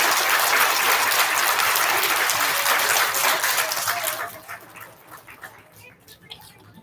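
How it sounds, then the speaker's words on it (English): An elementary school audience applauds students being recognised, a dense wash of clapping that holds strong for several seconds before thinning into scattered claps and murmuring as it fades. "Let's give our 3PK nominations a round of applause."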